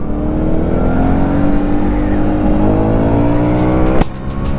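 An Aprilia Shiver 900 motorcycle engine pulls hard under acceleration, a loud, steady rising drone that climbs through the revs, then breaks off abruptly near the end with a brief crackle.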